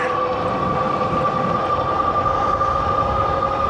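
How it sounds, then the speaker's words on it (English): A steady electric dual-motor whine from a Puckipuppy GoldenR speeding up uphill hums with a constant high tone over a rumbling rolling noise, loud and continuous without pause. "You immediately hear it picking up speed in those motors"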